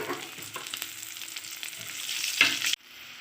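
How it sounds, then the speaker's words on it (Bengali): Chopped onions frying in a pan with tomato over low gas, a dense continuous close sizzle with stirring scrapes that swells slightly before stopping abruptly. "পেঁয়াজটাও একটু ভাজা হয়ে গেছে"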